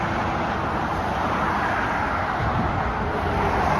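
Busy four-lane road traffic in Vancouver streams past with a constant broadband rumble and hiss of many cars, steady and fairly near.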